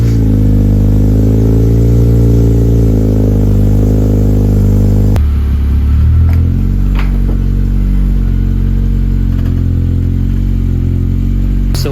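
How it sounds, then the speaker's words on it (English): 9th gen Honda Civic Si fitted with a Skunk2 catless downpipe, starting cold: a loud, raspy engine idling high, then the revs drop abruptly midway into a lower, rougher idle with a few brief clicks. "So I'm gonna give you guys another cold startup right now."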